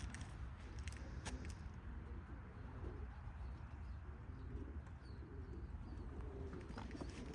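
Young racing pigeons cooing in a loft, soft low coos amid a faint rumbling background with a few light taps and chirps, quiet and continuous.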